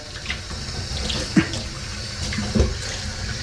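Tap water runs steadily into a sink as a paint sprayer is rinsed, with a couple of brief splashes or knocks standing out against the continuous flow.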